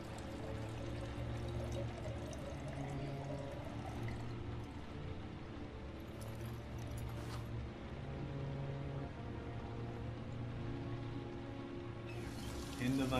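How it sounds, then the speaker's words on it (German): A video game character urinates in Heavy Rain, a steady, fairly quiet stream of liquid running continuously beneath low background sound, with a slightly louder splash near the end. "Natürlich pinkeln war erstmal wieder da."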